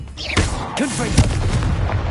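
A spell explosion in a Harry Potter video game: a deep boom from the Confringo spell, followed by a second heavy thump, over a steady game background with some voice-like sounds.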